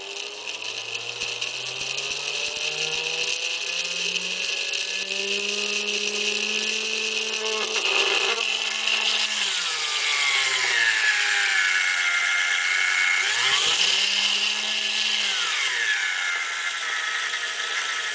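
A cheap eBay electric motor runs at 3 volts, a close steady high whine with a gear-like buzz whose pitch dips and rises as the shaft is loaded and released.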